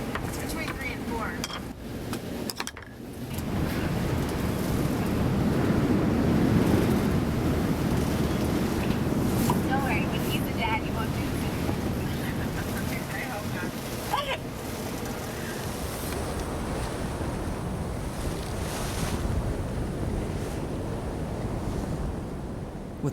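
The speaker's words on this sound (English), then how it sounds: "with waves crashing and the storm pounding us relentlessly" Storm surf and wind pound a boat at sea in a continuous roar of crashing water and buffeting gusts, loud and close, with a voice speaking over it.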